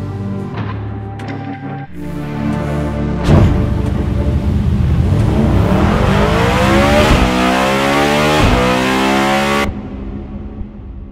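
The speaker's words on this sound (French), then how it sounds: "Je vous laisse avec un extrait du son du moteur." A V16 hypercar engine built for 500 km/h revs hard and loud, with rising and falling howling sweeps as it climbs through the revs, before cutting off abruptly.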